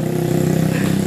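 A motorcycle engine runs at a steady, moderately loud drone beside a village field where homemade model airplanes are being flown, with no voices over it.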